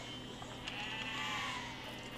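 Sheep bleating in the Besiege physics building game, a faint, wavering cry rising over a steady low in-game hum, continuous for a couple of seconds with no talk.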